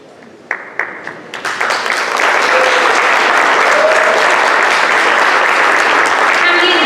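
Applause at a panel on the role of companies in helping refugees: a few scattered claps at first build within two seconds into loud, sustained clapping from a full audience.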